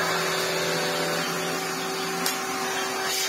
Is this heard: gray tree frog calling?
no